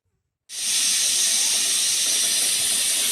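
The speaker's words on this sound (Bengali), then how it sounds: "প্রেশার কুকারে সিটি উঠে গেছে" A home pressure cooker on the stove releases steam through its whistle, a loud steady hiss that starts abruptly after a brief silence and holds constant to the end.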